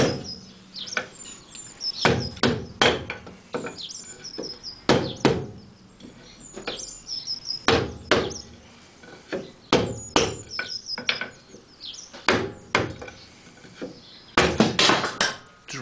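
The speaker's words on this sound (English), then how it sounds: "we can knock these brackets down off the chassis tubes" Metal brackets being hammered off the chassis tubes of a Morgan 3 wheeler in a workshop, sharp ringing blows arriving in irregular bursts, close and loud, with short pauses between strikes.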